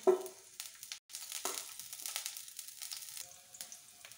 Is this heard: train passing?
no